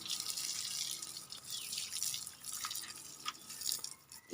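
Water running and splashing while a car is washed, a steady close hiss with scattered drips and small splatters throughout, no voices.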